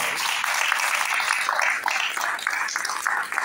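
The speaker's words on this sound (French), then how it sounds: "Donc on peut les applaudir également" Audience applause for the restaurant team and the Les Fournils de Provence bakery at the opening of a book fair in La Bouilladisse, a steady, dense round of clapping filling the room throughout.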